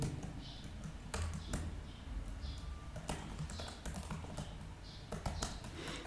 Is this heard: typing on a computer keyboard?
yes